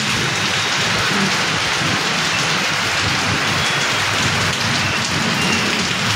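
Steady rain pours down on surfaces in a dense, continuous hiss, close and even throughout, with no voices.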